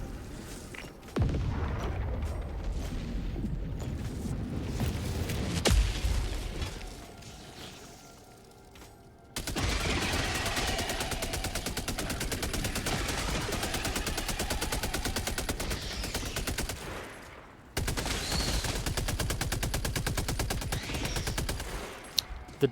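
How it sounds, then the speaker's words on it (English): Sentry turrets in Helldivers 2 fire in long, rapid automatic bursts, loud and close, broken by a couple of short pauses, with occasional heavier booms mixed in. "The turrets, when you call them down, the sentries, will just kill everything"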